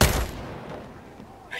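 Gunfire erupts in the military shooter Ghost Recon Breakpoint: a loud, close burst of shots at the start that trails off into a quieter rumbling tail, with a fresh sharp onset right at the end.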